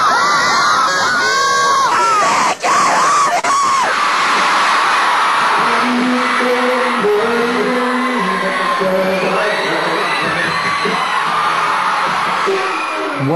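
A concert crowd of fans, mostly girls, screams at a five-member Irish boy band walking out on stage: a loud, sustained wall of high-pitched shrieking and cheering with no letup from start to end.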